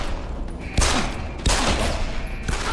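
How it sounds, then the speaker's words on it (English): Rapid bursts of video game gunfire crack loudly over a dense, steady background, with two sharp volleys standing out midway. "Ain't no way I shot you like 3 times!"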